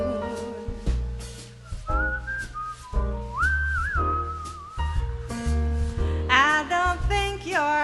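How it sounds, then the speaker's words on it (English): A person whistles a short melodic tune with gliding pitch over a jazz band accompaniment of steady bass and chords, the whistling clear and prominent. "I'd whistle a little tune"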